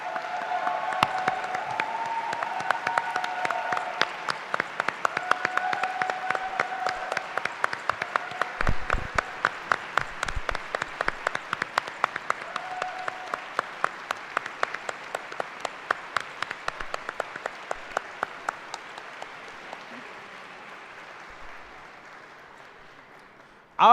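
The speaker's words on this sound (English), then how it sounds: "We would like to applaud you and those who are not here for everything that you do for us" The audience at a UWC Dilijan graduation ceremony applauds the parents in a long, sustained round of clapping that stays full for about twenty seconds before slowly thinning out, with faint voices mixed in early on.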